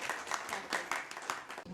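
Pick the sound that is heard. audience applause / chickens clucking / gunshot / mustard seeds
audience applause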